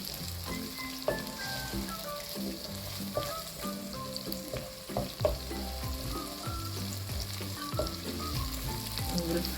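Garlic stir-fried in hot oil for an Andhra-style garlic green chilli chicken gravy, a dense steady sizzle with scattered clinks and scrapes of stirring throughout, close and moderately loud with no talk.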